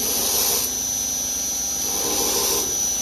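An angle grinder works steel into a dagger blade, giving a loud, steady high-pitched whine with continuous grinding, close up and uninterrupted, with no talking.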